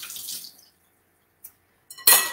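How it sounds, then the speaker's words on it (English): A kitchen knife rinsed under a running tap, with short splashing bursts of water at the start and end around a near-silent pause and no voices. "I'm rinsing my knife off."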